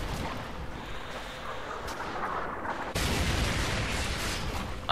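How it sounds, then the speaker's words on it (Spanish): Gunfire and explosive bursts in the shooter game Call of Duty: Modern Warfare 3, a dense, noisy crackle of shots with a sharp louder onset partway through, no voices over it. "Ahí, hay un disparo."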